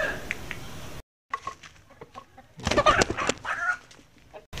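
Chickens cluck and squawk nearby in a few irregular bursts, with a brief pause near the start and some faint background rustling.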